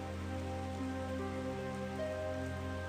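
Steady rain falls without pause, a continuous even patter on a surface that stays at one level throughout, with faint tonal hum running underneath.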